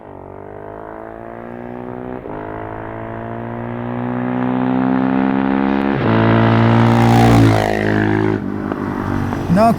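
A Herald Brute 500 single-cylinder motorcycle ridden on the road, its engine note loud and close, rising steadily through the gears with brief dips at shifts and a sharp rev near the end.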